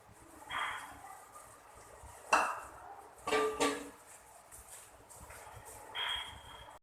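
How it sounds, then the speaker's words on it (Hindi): A spoon stirs chopped onions in a pan while beef haleem is being cooked, giving a few scattered clinks and scrapes against the metal over a quiet kitchen background. "साथ ही साथ में प्याज में भी चम्मच चलाते जाएंगे"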